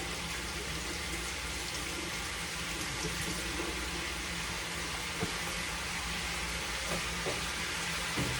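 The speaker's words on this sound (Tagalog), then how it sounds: "maghuhugas muna ako ng kamay" Tap water running steadily for hands being washed before grilling pork snacks, a continuous broadband splash that stays even throughout with faint clinks in the background.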